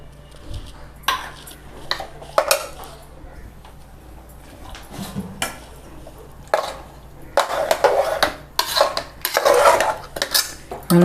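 Spoon clinking and scraping in a pot while sweet milk rice with jaggery is stirred, a series of clattering bursts that grow busier toward the end, with a voice talking faintly in the background.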